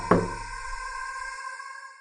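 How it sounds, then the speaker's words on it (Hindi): A single sharp knock on a door with a resonant, ringing tail that fades out over two seconds, heard alone with no voices. "दस्तक की आवाज तेज होती गई"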